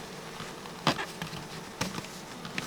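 Soft, faint buzzing of honeybees hums throughout at an apiary hive, with a few light knocks and taps at the hive standing out.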